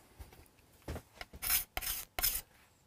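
A scraper works the wood of a Hofner Galaxie guitar in a series of short, dry rasping strokes, several quick passes in a row, close and fairly quiet.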